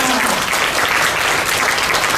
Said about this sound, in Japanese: どうぞ拍手をお願いいたします。